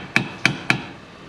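A hammer knocks on a Jeep Cherokee front strut held under tension by a tool: three sharp, close metallic strikes, evenly spaced, then quiet.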